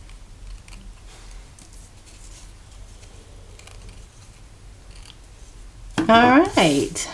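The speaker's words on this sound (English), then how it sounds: "while I got my scissors out, I'm going to go ahead and trim it even with the purple" Scissors trimming cardstock paper for a Halloween home decor craft make soft, faint snips and rustles over a quiet room, before a voice starts talking near the end.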